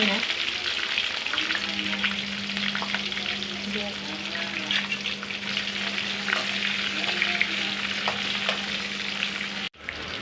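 Green and dried chillies fry in a pan for a festival offering, a steady, close sizzle with a constant low hum beneath and scattered crackles, ending with a brief knock.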